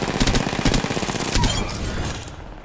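Rapid bursts of video game gunfire crackle in quick succession during a squad battle royale match, loud and dense for about two seconds before fading to quieter background noise.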